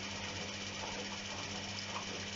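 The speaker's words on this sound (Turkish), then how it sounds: "Arkadaşlar göstermelik olarak böyle Süper kısayı çalıştırdık şu anda çok şükür. Dönüyor bakalım." A Siemens iQ500 washing machine runs its super quick program after an E43 fault repair, a steady close mechanical whir and hum with a constant low motor drone.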